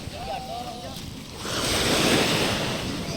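Ocean waves washing onto a beach in Lombok, a steady surf roar swelling louder midway and sustained, with wind noise on the microphone and no talking.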